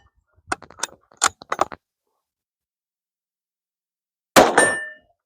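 At an outdoor shooting range, a .22 magnum round strikes a steel gong target, giving a single loud metallic clang that rings for about half a second, after a few sharp handling clicks and a pause.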